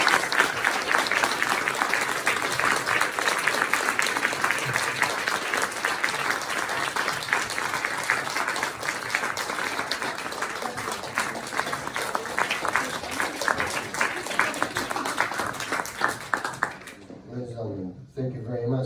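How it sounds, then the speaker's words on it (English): Sustained audience applause at a jazz history lecture, dense clapping from a large crowd that continues steadily and then fades out near the end. "Let's give another round of applause for Maestro."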